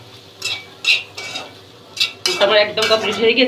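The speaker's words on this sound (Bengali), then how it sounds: "সসটা এর সাথে ভালোভাবে মিশিয়ে নিব।" A spoon stirs tomato sauce into a fried chicken filling in a pan, giving repeated metallic scrapes and clinks in short bursts, with brief mumbled speech near the end.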